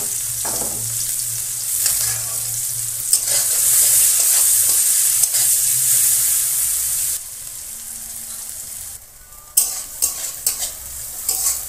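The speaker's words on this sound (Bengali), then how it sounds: "তেলে ফোড়নে জিরে দিয়ে দেবো, পেঁয়াজ কুচি দিয়ে দেবো" Chopped onion and cumin seeds frying in hot oil for a fish curry, a steady loud sizzle with intermittent scraping stirs, easing briefly before sharper clattering stirs return.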